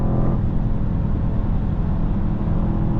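Mercedes GLE 63 S AMG V8 accelerating under full throttle on a German autobahn, a dense, loud, steady low engine roar heard from inside the cabin, with the note holding throughout.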